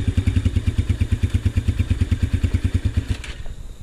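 A Yamaha TTR 125 dirt bike idles close by with a steady, lumpy thumping beat, then the rhythm falters and the engine cuts out after about three seconds, leaving near quiet.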